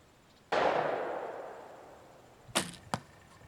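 A barebow archer looses an arrow at a target 20 yards away: a sharp release snap with a long decaying hum of the bow, then two quick impact knocks about two seconds later, with no talking.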